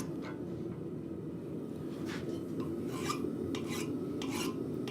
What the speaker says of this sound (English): File-wise, I'm going to be using my Flat Bastard mill file.